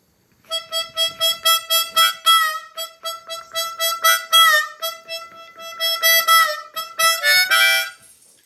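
Harmonica on the 4 draw plays the opening of a song: a rapid run of pulsing notes, starting fairly quiet and growing louder, with wavering bends, then a repeated phrase, played solo and up close.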